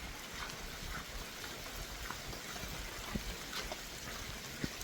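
Rain falls and water runs along a road, a steady soft hiss of drops and trickling with occasional small splashes, fairly quiet and continuous.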